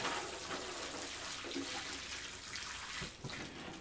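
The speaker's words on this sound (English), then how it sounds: "Give them a quick water." Steady splashing and pouring water runs continuously for a few seconds, close by, as greenhouse jalapeno plants are watered, with no talking.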